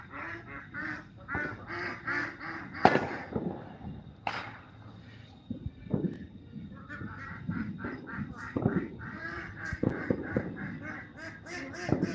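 A rooster crows repeatedly amid a jumble of honking, quacking fowl calls during a 4th of July fireworks night, with scattered pops and bursts in the background and no speech.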